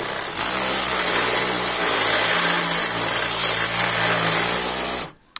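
Parkside PAEXS 20-Li A cordless orbital sander running at speed 2 with a loud, steady, high-pitched whir and motor drone, then abruptly cutting off near the end.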